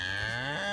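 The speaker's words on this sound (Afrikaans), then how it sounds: "hulle gaan jaag die beeste op die plaas" Cattle on a farm letting out a single short, low moo, near and clear against a quiet background, with no voices.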